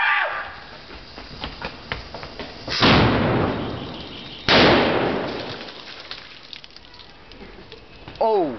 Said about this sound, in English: And that, children, is Chinese fireworks.